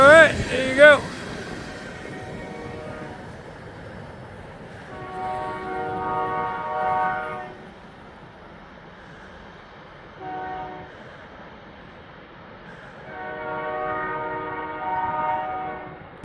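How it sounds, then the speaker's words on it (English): The horn of a train with three locomotives blows several long, harmonic blasts in a sequence with pauses between them, over a low rumbling background, preceded by a brief sharp noise. "I heard a train horn and I came out, and there's 3 locomotives."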